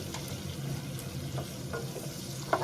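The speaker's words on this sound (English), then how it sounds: "I'm gonna put in the tomato paste" Tomato paste stirred into a hot sizzling pan for spicy chicken gizzard, a steady close frying hiss with soft scraping strokes and a sharper clink near the end.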